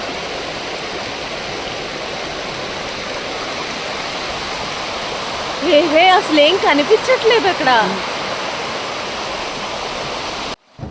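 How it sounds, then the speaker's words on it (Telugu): Rathibali waterfall in the Deomali hills of Odisha roars as a constant loud rush of falling water, with people talking briefly over it midway. "సో ఈ Ratibali water ఫాల్స్ని గాలికా Badr water falls అని కూడా అంటారు."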